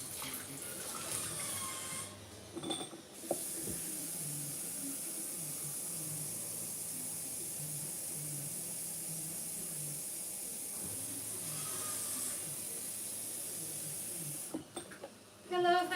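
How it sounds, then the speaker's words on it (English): An electric kettle heats water for couscous, giving a steady hiss and rumble with a high whine that runs for most of the stretch before cutting off near the end, along with faint clicks. "I'm going to get the kettle boiling."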